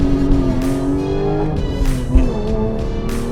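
A modified BMW E46 M3 roars around a race track, its engine note loud and close, rising and falling through gears with a brief tire squeal.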